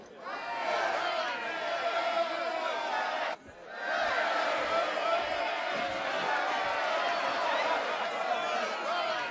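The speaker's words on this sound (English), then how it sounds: "Enjoy the crowd's reaction" A large crowd roars and cheers in the game Assassin's Creed Odyssey, a dense, loud wall of voices with a brief dip in the middle before the cheering swells back and carries on steadily.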